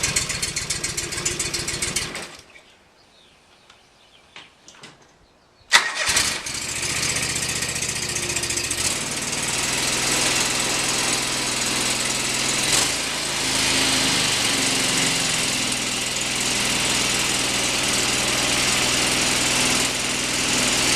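A John Deere 445 lawn tractor with a Kawasaki FD620D engine, running again after a plastic camshaft replacement. A loud mechanical whir comes first, then a pause of near silence. The engine then starts with a burst and settles into a steady, close, even running drone.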